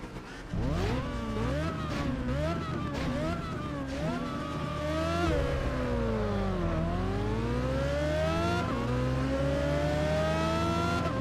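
A McLaren car engine revs hard in the Test Drive Unlimited 2 racing game. The tone climbs and falls through gear changes, loud and steady over the whole stretch, with sirens or other engines mixed in.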